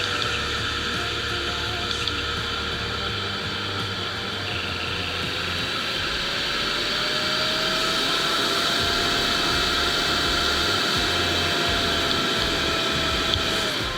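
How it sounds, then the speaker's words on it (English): The cooling blower on a compact ISDT P20 charger gives a loud, steady whooshing whir throughout. A faint tonal whine shifts in pitch as the fan speed changes. "you can hear the blower ramp it down too."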